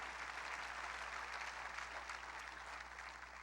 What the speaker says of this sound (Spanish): Dale un aplauso bien fuerte al Rey de Reyes y Señor de Señores.